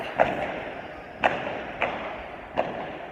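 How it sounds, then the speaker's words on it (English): Four dull booms of Chinese New Year fireworks in Shanghai go off in the distance at irregular intervals over a faint background hiss. "Can you hear those fireworks for the Chinese New Year?"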